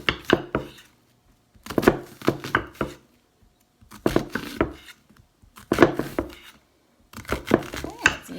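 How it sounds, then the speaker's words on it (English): Knife chopping and dicing onion on a cutting board while making tortillas, arriving as bursts of quick rhythmic taps separated by short pauses, close and fairly loud, with a person talking between the bursts. "and then we're going to cut the onion"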